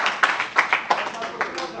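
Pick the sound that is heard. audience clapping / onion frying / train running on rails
audience clapping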